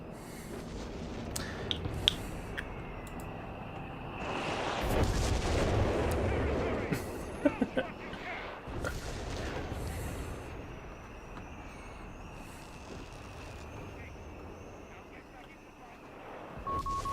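An artillery barrage in Company of Heroes 3, a World War II strategy game: a stretch of heavy rumbling blasts and sharp cracks swells in the middle, with scattered distant impacts before and after, mixed with general battle noise.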